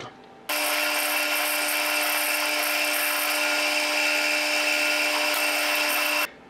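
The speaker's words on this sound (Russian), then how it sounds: "Теперь перевернем и с обратной стороны сверлим опять же." Power drill boring a 4 mm hole 35 mm deep into wood from the reverse side, a steady loud whine with a constant pitch running about six seconds before stopping abruptly, with no talk.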